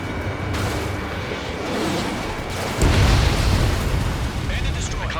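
An enemy fighter jet blows up in Ace Combat 7, a heavy booming blast that swells suddenly midway over ongoing jet and combat noise, loud and close.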